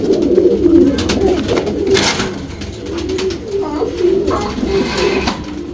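HMT racing pigeons in a loft coo loudly and close by, with rolling overlapping calls throughout and a few brief sharper bursts.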